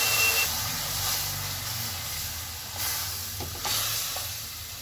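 A steady, moderately loud hiss and sizzle of besan halwa cooking in a pan with milk and cream, continuous throughout with slight swells and no talking.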